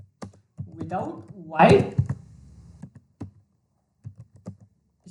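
Light computer keyboard taps while code is being written, a few soft clicks scattered between stretches of someone talking, the keystrokes quiet and intermittent.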